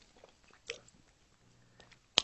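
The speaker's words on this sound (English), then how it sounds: "This guy's been chewing and chewing." A person chews food with faint wet mouth sounds, punctuated by a couple of sharper squishy bites, close and quiet.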